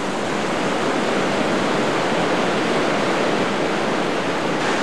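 Floodwater of a river breaking free across farmland, a dense, steady broadband roar of rushing water, loud and unbroken throughout with no voices.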